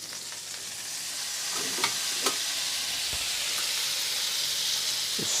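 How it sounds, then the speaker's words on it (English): Butter and lemon juice stirred in a hot pan for a scallop sauce, a steady sizzle and hiss with a few faint utensil scrapes, no voices. "Just stir it around a little bit."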